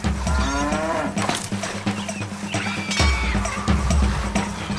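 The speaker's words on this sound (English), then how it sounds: "Old Bessie is acting a little strange, Lord. So are most of the other cows" Cattle moo repeatedly in a farm scene from the castle-building strategy game Stronghold: Definitive Edition, several loud, drawn-out lowing calls overlapping one another in quick succession.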